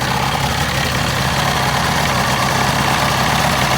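A 1962 Johnson 75 hp outboard motor runs warm with the carburetor fully open, a loud, close, steady drone that holds even throughout.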